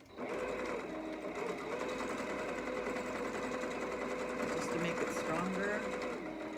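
Close and continuous, a sewing machine hums as it runs another line of stitching over an existing seam, with a voice talking quietly over the motor.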